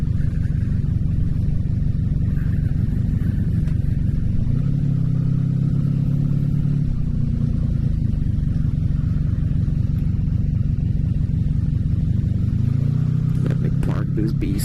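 A 1984 Honda Magna VF700C motorcycle rides along, its engine a steady low drone with two rising rev swells as gears change, close and continuous, with a rider talking over it.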